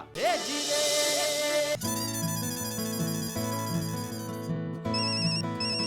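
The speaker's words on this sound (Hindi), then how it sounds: "तारक का फोन" A loud electronic phone ringtone plays a bright, looping melody for several seconds, with no one talking over it.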